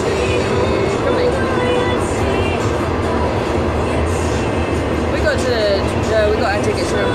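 Interior of a passenger train on the way to Kunming, China: a steady loud rumble of wheels and carriage with faint clicks and squeals, and voices of people talking in the background.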